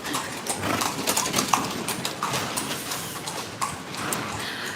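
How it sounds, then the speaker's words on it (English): Horse hooves clip-clop at a steady walking rhythm on the streets of Cartagena's walled city as a horse-drawn carriage passes close by, loud and clear over faint street ambience. "You can take a ride in a horse carriage."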